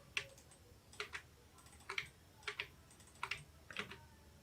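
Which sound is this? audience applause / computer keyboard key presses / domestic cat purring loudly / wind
computer keyboard key presses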